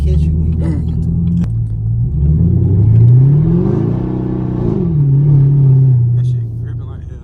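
Catless Chevrolet Camaro SS V8 rumbles loudly up close while driving in snow, its deep exhaust note rising and falling through a couple of rev swells, with a voice talking over it.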